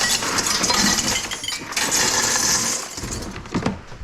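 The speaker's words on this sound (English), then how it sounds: "This is all clean stainless steel nuts and bolts." Clean stainless steel nuts and bolts clatter and jingle as they are sorted into buckets in a scrap metal shop, a busy metallic rattle that thins out near the end with a few separate clinks.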